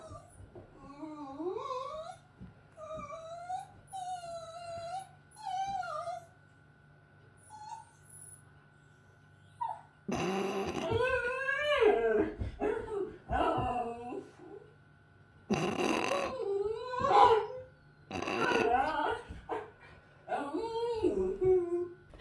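Dogs whimper and whine in high, wavering cries, with longer howl-like calls and excited yelps in bursts, close by over a steady background hum.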